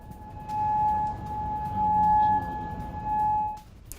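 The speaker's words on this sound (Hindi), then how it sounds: "हालांकि अलर्ट सायरन ऑन है यहां भी" A civil-defence air raid alert siren sounding in Kuwait, a steady held tone that swells and fades in slow waves over a low background rumble.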